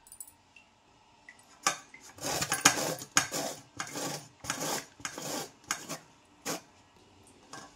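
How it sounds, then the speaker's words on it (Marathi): Tender, seedless pumpkin grated by hand, a series of about a dozen scraping rasps in uneven bursts, close and fairly quiet, with no talk. "आता किसून घेणार आहोत।"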